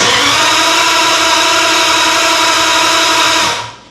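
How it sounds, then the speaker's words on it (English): An EFI-converted flathead engine cranks over on the starter with a steady, loud, dense mechanical whir and grind that holds evenly for several seconds before stopping abruptly. "Let's check if we get an RPM signal whenever we crank the engine over."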